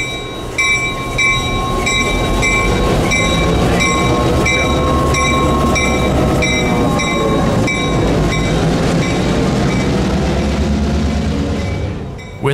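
A CSX GP7U locomotive hauls train cars along the rails, with a loud continuous rolling rumble, steady rhythmic wheel clicks over rail joints, and high tonal squeal from the wheels, fading slightly toward the end.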